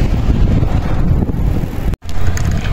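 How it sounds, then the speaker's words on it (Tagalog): Strong wind in Japan buffets the microphone with a constant, loud rumbling roar, briefly cutting out before resuming. "pero lakas ng hangin."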